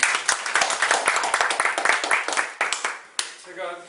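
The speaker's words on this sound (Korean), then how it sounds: "박수로 좀." Audience clapping at a Korean debate forum on cooperative election law, a brief burst of many hands with sharp uneven claps that thins out and stops, followed by a voice starting to speak.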